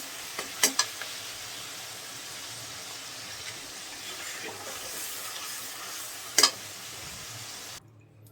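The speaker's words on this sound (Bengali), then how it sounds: "এবার ঝরানো চিংড়ি মাছটা দিয়ে দিব এবং চিংড়ি মাছটা খুব সাবধানে ভালো করে নাড়তে হবে" Dried shrimp fry quietly in a pan of oil, a faint steady sizzle with a few sharp clicks of stirring at the start and again near the end before it cuts off.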